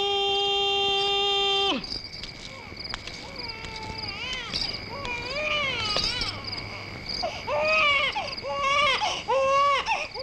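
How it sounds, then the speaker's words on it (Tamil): After a steady electronic tone cuts out, a baby cries in repeated wailing bursts that grow louder toward the end. "என்ன இது குழந்தை அழுகிற சத்தம்?"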